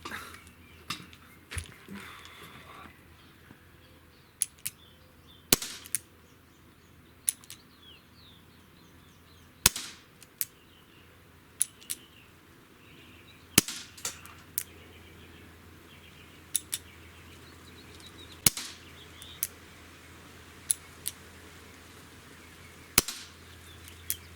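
A Chiappa Rhino 50DS air pistol fires at a target outdoors, giving sharp, isolated cracks spaced several seconds apart over quiet ambience with faint birdsong.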